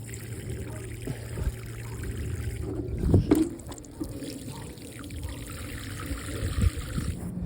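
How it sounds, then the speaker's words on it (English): Water pours and trickles steadily onto soil around freshly transplanted seedlings in an outdoor garden, a soft continuous splashing with a brief louder gush partway through. "And now we'll just water these in real good."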